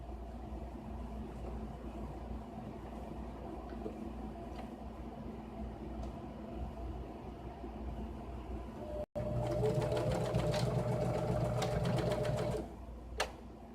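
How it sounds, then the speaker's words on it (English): A sewing machine stitches around a Velcro strip on a Swiffer pad: a steady mechanical whir runs under room noise, then grows louder and busier for a few seconds before stopping. "I'm just going to sew all the way around the Velcro."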